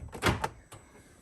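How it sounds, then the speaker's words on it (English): Door lock actuators on a Kia Venga central locking system fire in a quick burst of thunks, a loud cluster followed by a softer single clunk, close by. "driver's door locked. Left rear locked, and then right rear locked."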